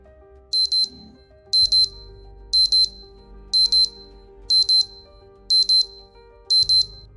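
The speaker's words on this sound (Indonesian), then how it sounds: "And second, alarm clock." An electronic alarm clock beeps in regular bursts, about one per second, each a quick double beep, bright and clear over a faint background hum.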